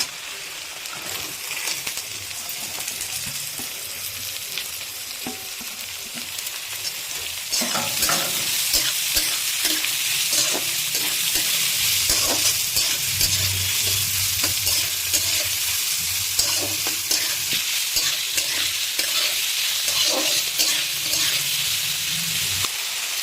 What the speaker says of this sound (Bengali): এটা এখানে ভাজা চলছে